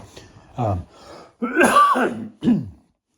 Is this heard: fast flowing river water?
no